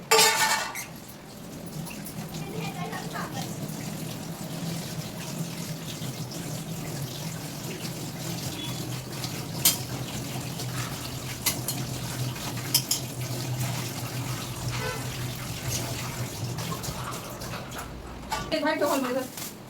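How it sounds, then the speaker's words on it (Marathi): Tap water runs steadily into a sink as fenugreek leaves are washed, with occasional squeaks and clinks, a voice speaking intermittently over the flow. "2-3 पाण्याने स्वच्छ घेऊन घेते."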